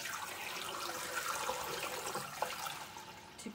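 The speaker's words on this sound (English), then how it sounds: "We're going to add our water just about halfway up the jars" Water poured into a canner pan around glass jars of venison, filling to about halfway up the jars, a steady close splashing rush that runs throughout with a brief clink near the end.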